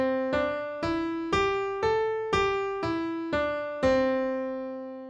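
A pentatonic scale in its major form, played as eight separate plucked, bright notes at an even pace. Each note rings and decays before the next, and the pitch climbs and then comes back down.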